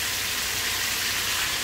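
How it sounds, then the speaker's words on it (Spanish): Beef searing in a cooking pot for a boliche roast, a loud, steady, close sizzle with no breaks and no voices. "Vamos a poner a sellar la carne."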